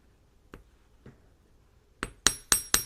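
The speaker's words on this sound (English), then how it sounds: "I'm going to turn my hammer to the ball side." Ball side of a hammer striking copper wire bracelet to texture it, two light taps followed by four sharper metallic clinks in quick succession, close and clear with no talk.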